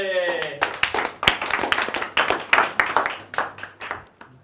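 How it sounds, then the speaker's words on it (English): Audience clapping for a speaker coming onto the stage at a business talk, a dense, steady burst of many hands at close range that carries on throughout and gradually thins toward the end. "give a huge, warm round of applause"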